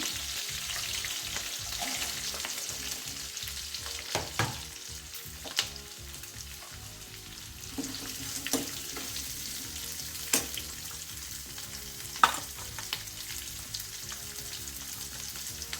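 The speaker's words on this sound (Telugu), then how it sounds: "ఇవన్నీ ఒక్కసారి ఫ్రై చేసుకోవాలి కొద్దిగా వేగాక కట్ చేసుకొని పెట్టుకున్న ఆనియన్స్ వేసుకోవాలి" Onions for an Andhra-style drumstick curry frying in a pan after green chillies, a steady sizzle broken by scraping stirs and occasional clinks, close and continuous with no talking.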